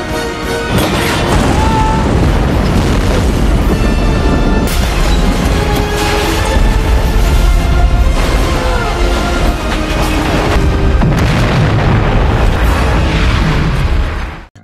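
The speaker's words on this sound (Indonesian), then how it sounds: "Ledakan besar akhirnya meluluh lantakan lab di bagian permukaan." A large explosion destroys a laboratory in a film scene, a loud continuous rumbling blast with crashing debris and booms that sustains before cutting off abruptly.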